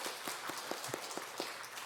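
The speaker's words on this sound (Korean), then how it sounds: "격려의 박수 한번 줬으면 좋겠습니다" A church congregation at a Sunday service applauds the robed choir, a soft, fairly even patter of claps from a crowd at some distance, with no talking.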